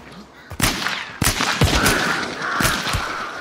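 Gunfire in the Hunt Showdown video game: several loud, sharp shots at irregular intervals, close and punchy, with short reverberant tails and a faint background hum.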